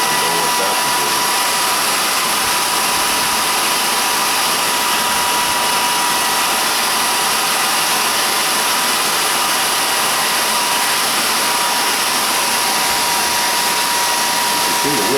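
A hair dryer blows steadily to dry paint on a wooden carving, a loud continuous whooshing hum that runs without a break from start to finish.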